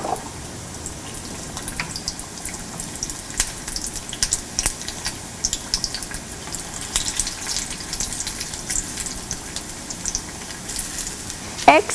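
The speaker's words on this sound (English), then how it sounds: "add the coated eggs into the oil and deep fry till golden" Batter-coated boiled eggs deep fry in hot oil over a medium flame, a steady low sizzle and bubbling crackle with scattered pops running continuously at moderate volume.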